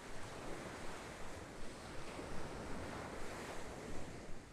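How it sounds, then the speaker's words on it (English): Strong, tall ocean waves break steadily on a sandy shore lined with dunes and wet algae, a loud continuous wash of surf with gusting wind noise and no voices. "Look at the waves, how strong and tall they are."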